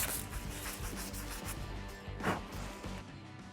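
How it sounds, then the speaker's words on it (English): Scale, rust and grease are scrubbed off a Triumph bobber motorcycle frame tube, a close, steady back-and-forth abrasive rubbing with one sharper scrape partway through. "Quickly prep this tube to get any scale, rust, grease, whatever off of there"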